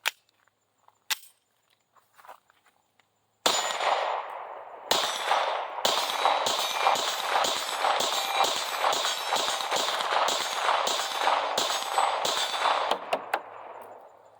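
A SAR USA SAR9 pistol fires a rapid string of sharp, loud gunshots at a steady pace through a full magazine, after a few faint clicks and handling noises at the start.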